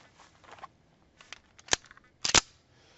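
.45 pistol shots fired outdoors in the dark, two sharp close cracks about half a second apart, with fainter clicks and handling noises before them.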